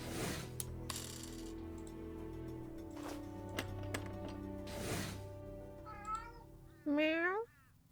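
Meowing from a cat in the Grim Tales 6 hidden-object game, two short rising meows near the end, heard after a few sharp metallic clinks and chimes.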